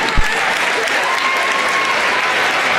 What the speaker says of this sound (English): she gets a big cheer going off the court from the student section